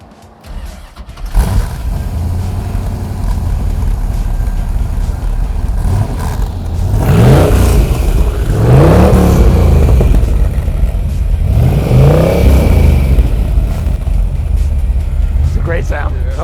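A 1972 De Tomaso Pantera engine cranks and catches, then idles loudly with three sharp revving bursts rising and falling, heard close with faint voices in the background.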